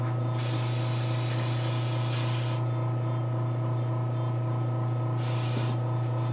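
An airbrush sprays paint from its cup onto a Giganta figure in two distinct hissing bursts, the first longer and the second shorter, over a steady low electrical hum from nearby equipment.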